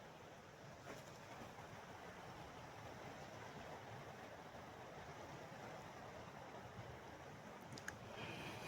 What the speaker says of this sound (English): The sound of the water sounds so good and so pure